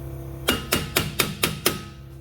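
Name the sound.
hammer tapping wheel bearing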